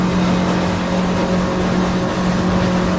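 A Stabicraft 2500 Ultracab XL motorboat with twin Yamaha outboards cruises at speed, giving a loud, steady engine drone mixed with rushing water and wind noise throughout.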